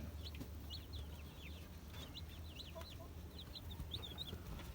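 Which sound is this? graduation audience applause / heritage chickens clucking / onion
heritage chickens clucking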